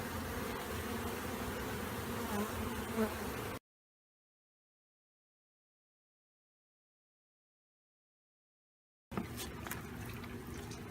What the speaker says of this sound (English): Spread out, little bees. There's more bees in here.